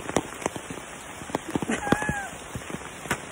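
Steady rain patters on a campsite tent in the North Carolina mountains, close and continuous with scattered sharper drops, and brief faint voices murmur underneath.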